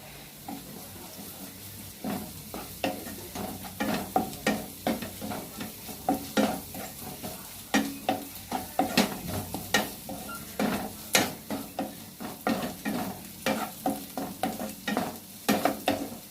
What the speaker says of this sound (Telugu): కొంచెం అల్లం వెల్లుల్లి పేస్ట్ వేస్తానండి.